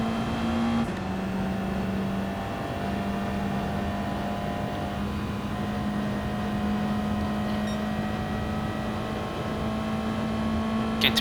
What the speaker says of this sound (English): so it is a pretty quick car in a straight line from what it looks like.